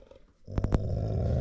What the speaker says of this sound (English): we have 2 dogs, and at least one of them acts as a watchdog.